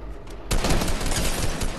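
Rapid burst of video game gunfire from a sniper-focused shooter match, loud and dense, breaking in abruptly after a quieter start and continuing to the end.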